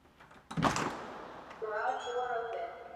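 A residential garage door of a 3-car garage starts with a sharp clunk, then rolls open with a smooth mechanical hum and rattle, fairly quiet and close.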